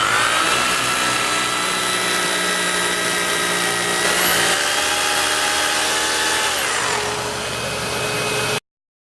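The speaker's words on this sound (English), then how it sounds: "then we are ready to drill our hole." A power drill bores a hole with a DeWALT DWV012 10-gallon dust extractor attached and running, a loud continuous whining drone whose pitch shifts midway and settles lower before stopping abruptly.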